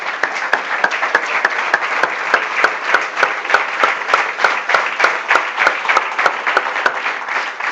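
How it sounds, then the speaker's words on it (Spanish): A church congregation applauding together during a Spanish-language service, a dense, steady wash of many hands clapping with a rapid, regular rhythm that stays loud and even throughout, with no talking over it. "Démosle un aplauso al Señor, hermano."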